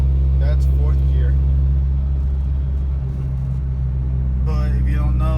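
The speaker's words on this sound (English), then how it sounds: "always go off the sound of the motor to know when I need to shift it or not" Low, steady engine drone from a manual-transmission car cruising in fourth gear, heard from inside the cabin as a constant hum with someone talking over it at times.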